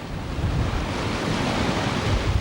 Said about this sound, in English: when the waves are short and sharp, like this, they are very likely to break on board